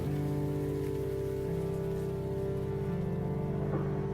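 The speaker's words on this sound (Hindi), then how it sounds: "बारिश में तो गजब का शोर है" Rain patters steadily and continuously on a surface, a dense unbroken wash of drops with a low hum underneath.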